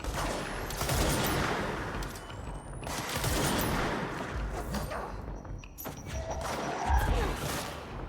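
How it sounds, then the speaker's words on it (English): A grenade explosion in the video game Control bursts out amid heavy gunfire, with loud rumbling blasts and crackling shots rolling in waves and fading into quieter stretches. "that was the grenade that guy shot"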